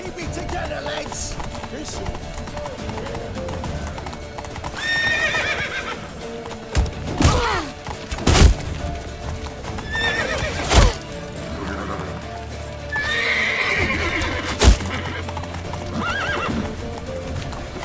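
Horses galloping in The Witcher 3 game: rapid clip-clop hoofbeats with neighs and whinnies, loud and close, broken by sharp heavy impacts and shouting voices in places.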